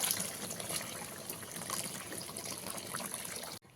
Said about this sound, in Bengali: এবারে আমি এখানে দিয়ে দেব গরম জল দিয়ে দিচ্ছি পরিমাণ মতন গরম জল